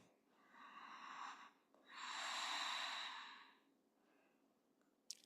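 Slow deep breathing through the nose during a held yoga pose, one long airy exhale, a brief pause, then a fuller louder breath, close and alone with no talking.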